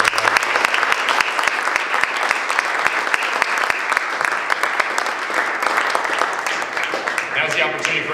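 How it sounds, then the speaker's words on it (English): A ring, plaque and jacket presentation ceremony audience gives a long round of applause, steady dense clapping from a room full of people lasting several seconds, with a voice faintly present underneath. "Let's have one more round of applause for everyone."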